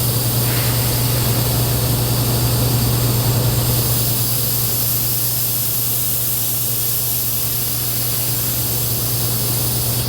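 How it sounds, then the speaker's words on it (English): Compressed air hisses steadily and loudly into a tire pressure gauge, a continuous close spray-like rush with a low steady hum underneath and no talking. "And some more compressed air."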